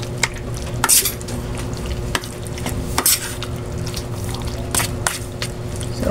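Boneless anchovy fritters fry in hot oil with a steady close sizzle, punctuated by scattered sharp clinks and stirring scrapes of a utensil in the pan.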